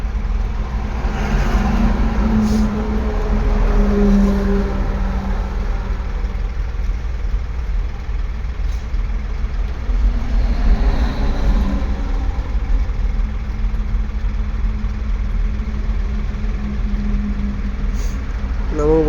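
A heavy truck hauling machinery from Trichy to Gujarat rolls along a bypass road with a steady, loud, low engine drone and road rumble, and someone talks over it throughout.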